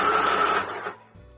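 A sewing machine stitches mesh onto a leotard, running in a loud steady whir that slows and stops partway, followed by a quieter brief burst.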